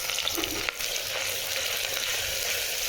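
Meat (gosht) frying with onions in a pan for loki gosht, a loud steady sizzle running throughout with a brief stir-like clatter near the start, no voices.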